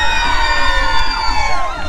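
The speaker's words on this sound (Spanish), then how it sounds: "Aplausos para la Gatúbela" Loud, dense crowd cheering and whooping at a 2019 spring break party in Huatabampito, a continuous wall of shouting voices that stays close and steady without a break.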